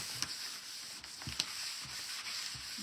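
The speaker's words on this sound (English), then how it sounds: "I just want to wipe this off because it feels kind of like it's been sanded" Wiping dust off a wooden lemon tray: soft, faint, rhythmic rubbing strokes close by, with light scuffing taps repeating every half second or so.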